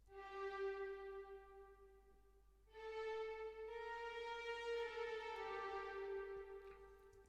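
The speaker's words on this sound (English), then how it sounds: "So if you put it to 100, you're only going to hear the affected sound" A sustained synth chord drenched in a fully wet long hall reverb, washy and smeared with no dry attack, fading briefly before a second swelling chord rings on alone.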